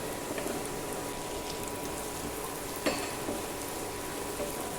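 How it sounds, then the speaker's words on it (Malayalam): Garlic sizzling in butter in a pan for butter garlic prawns, with a continuous dense crackle and hiss and one brief clink partway through, close and steady. "ഈ വെളുത്തുള്ളി ഇങ്ങനെ ബട്ടറിൽ ഇങ്ങനെ മൂക്കുമ്പോൾ നല്ലൊരു മണം ഉണ്ടാവും"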